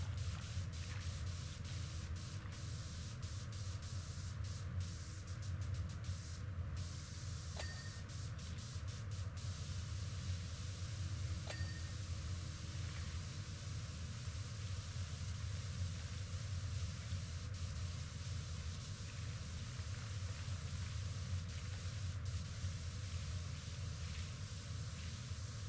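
A pressure washer sprays without pause in the video game Powerwash Simulator 2, a loud, even hiss of water that holds steady throughout with no voices over it.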